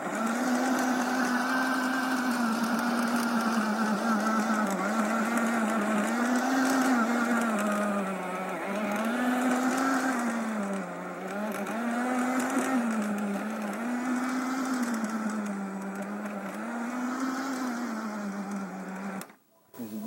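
An electric garden tiller churns through garden soil with its wheel lifted, giving a loud, steady motor drone that rises and dips in a slow wavering rhythm under its load, then cuts out abruptly just before the end.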